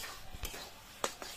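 Bottle gourd and coconut curry is spooned out of a pan into a serving dish, making a few soft clinks and scrapes of metal against metal, close and quiet, with no voices.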